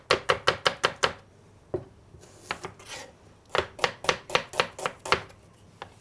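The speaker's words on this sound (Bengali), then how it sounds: "ইন দ্য মিন টাইম আমরা কিছু অনিয়ন স্লাইস করে নিব" Onions sliced with a knife on a board, rapid runs of crisp, close chopping taps in quick rhythmic bursts separated by short pauses, with no talking.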